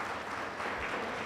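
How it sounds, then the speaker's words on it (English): A room of attendees at a literary event gives an organizer a round of applause, a short, steady patter of many hands clapping at moderate distance with no talking over it. "I think she deserves a round of applause"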